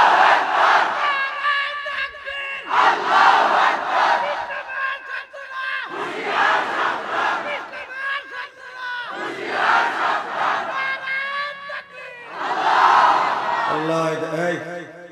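A large crowd at a Bengali Islamic sermon chants takbir loudly in repeated bursts of roughly two seconds each, with brief pauses between the shouts.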